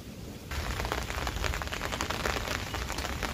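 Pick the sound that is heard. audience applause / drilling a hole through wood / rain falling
rain falling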